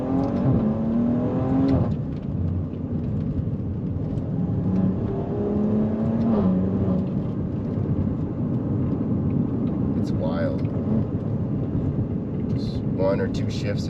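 A 2017 Maserati Levante S in manual mode accelerates hard, its engine note climbing and dropping through a couple of gear shifts, a steady rumbling drone with a voice talking over it.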